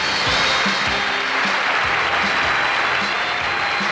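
A studio audience breaks into steady, dense applause that holds at full strength throughout, with no speech over it.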